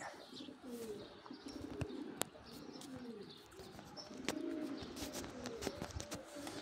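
Pigeons released from a loft on a cold morning after rain coo and chirp at a moderate distance, with occasional sharp clicks and possible wing flaps over a faint outdoor background.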